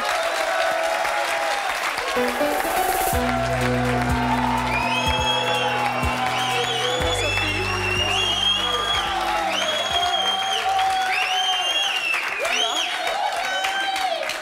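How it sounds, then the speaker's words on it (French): A studio audience at a French talk show applauds steadily throughout, loud and continuous with a few whoops, while a host speaks over it and music plays underneath. "on les applaudit"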